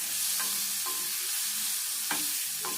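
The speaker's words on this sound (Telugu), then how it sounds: "ఈ రోట్లో దంచుకున్న కారం ఇందులో వేసుకొని ఇదంతా కూడా కొద్దిసేపు అయితే కారం కూడా మంచిగా నూనెలో ఫ్రై కావాలి." Pounded red chili powder frying in oil for an egg curry with green chillies, giving a steady close hiss of sizzling with a few soft stirring scrapes spaced through it.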